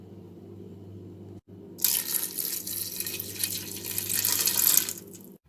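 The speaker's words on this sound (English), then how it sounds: "I'm gonna add some water because these are dry" Water pours into a pot of dried peas before pressure cooking, starting after a low background hum with a brief gap, then a steady bright splashing stream that runs for several seconds before stopping.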